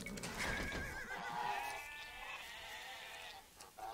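Sheep bleat in Age of Empires II during an Arena match with the Khmer civilization, several wavering calls overlapping one another against a steady game backdrop, loud and close with no talk.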